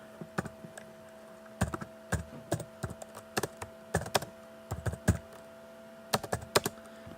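Calculator keys tapped to recalculate a statistics result, a quick run of light clicks in several bursts with short pauses, close and fairly quiet.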